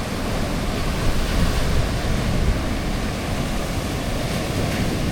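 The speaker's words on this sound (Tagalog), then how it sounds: "Lakas ng alon, sobra." Strong, heavy ocean waves pounding a beach during the southwest monsoon, a continuous loud broadband roar of surf and wind with no talk over it.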